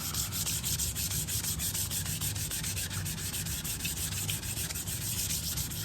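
Hand sanding of a wood piece pore-filled with GluBoost Fill n' Finish, a steady close scratchy rubbing in regular back-and-forth strokes, with no talk.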